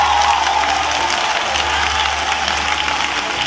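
Applause and cheering from a church congregation fill the space with dense, steady clapping that carries a slight crowd roar.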